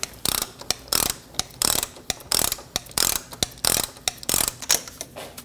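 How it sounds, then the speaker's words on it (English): A ratchet fitted with a 27mm socket clicks in quick, repeated bursts while snugging down the front axle bolt on a Volkswagen Passat, close and crisp with rhythmic strokes and no speech. "Using a 27mm socket, we're going to snug down the bolt."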